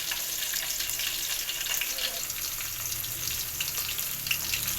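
Onions fry in hot oil in a pan for pulao, giving a steady, close sizzle and soft crackle with occasional stirring, continuous and moderately loud throughout.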